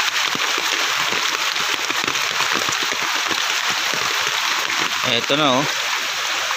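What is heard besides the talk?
typhoon floodwater flowing over a damaged road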